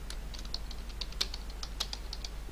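Keys clatter on a computer keyboard in quick, uneven, soft taps close by, with no voice over them.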